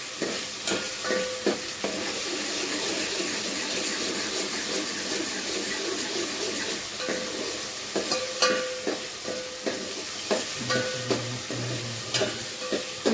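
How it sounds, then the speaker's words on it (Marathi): Ground masala paste sizzles as it is sautéed and stirred in a pan, with repeated scraping and clinking strokes over a continuous frying hiss. "बघा मस्त पैकी मसाला परततात ते आई"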